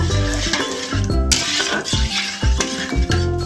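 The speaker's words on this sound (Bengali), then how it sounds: "এবার ডালটা ভালোভাবে আমি এরকমভাবে ধুয়ে নেব।" Moong dal being washed in water in a pan for Bengali fish head moong dal, with clattering metal, swishing water and clinking pan sounds repeating in rhythmic bursts throughout.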